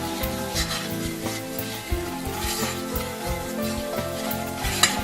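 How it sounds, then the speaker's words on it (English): Chopped garlic with cumin sizzling in a pan while a utensil stirs it, steady frying crackle under repeated scraping and clinking, close and moderately loud, with no talk. "And our chopped garlic. Give that a stir to release the flavours."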